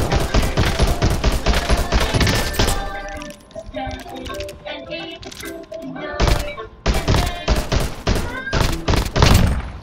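Continuous gunfire in a shooting video game, loud rapid bursts of shots that pause briefly in the middle with scattered clinks and thuds, then resume in dense repeated volleys.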